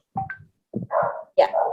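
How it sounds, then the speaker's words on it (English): A pet dog barks nearby in a few sharp, separate yaps, with a brief word spoken just before. "I think you can hear her barking."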